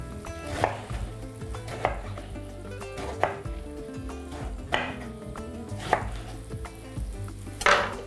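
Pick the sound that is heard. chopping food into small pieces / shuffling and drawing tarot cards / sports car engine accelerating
chopping food into small pieces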